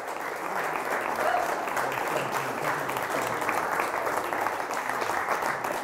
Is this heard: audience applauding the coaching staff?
yes